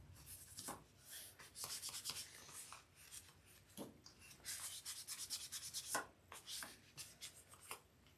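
Silver marking pen being rubbed off sewing fabric, producing faint, close, irregular brushing and rubbing strokes in quick bursts, with no talking.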